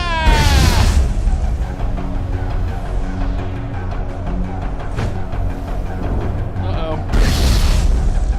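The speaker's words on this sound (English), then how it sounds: "Here, take this grenade from Fai Dan." A grenade detonating in the video game Mass Effect, giving a loud, deep boom followed by sustained rumbling, with a second blast surge near the end amid dense game noise.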